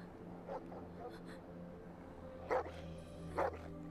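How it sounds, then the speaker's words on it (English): Dogs in an anime episode give a few sharp barks, faint at first and then two louder, spaced yaps, heard over a low background hum. "Oh yeah, those are dogs actually."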